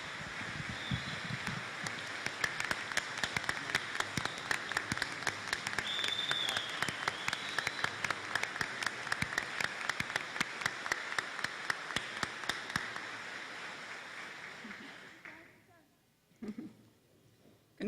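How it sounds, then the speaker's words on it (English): An awards-banquet audience gives a standing ovation, dense continuous clapping for about fifteen seconds before fading out, followed by a brief stray sound. "Round of applause. Give her another standing ovation."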